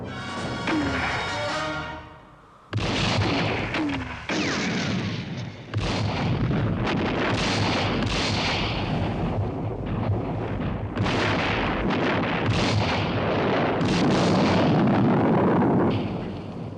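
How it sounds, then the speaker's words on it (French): Film-style battle sound effects from a 1969 war movie: mortar fire strikes a mine, setting off a series of loud, heavy explosions and booms with rumbling debris, repeated blasts layered over one another for about fifteen seconds. "notre tir de mortier a touché leur mine"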